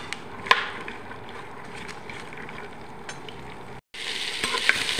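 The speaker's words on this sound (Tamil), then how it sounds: "இப்போ இந்த காய்கறி எல்லாம் கொஞ்சம் நல்லா வதக்கி விட்டுக்கோங்க." Beans, green chilies and mixed vegetables sizzle and are stirred in a pan for vegetable pulao, a steady close frying hiss with light scraping knocks and a louder burst after a brief pause.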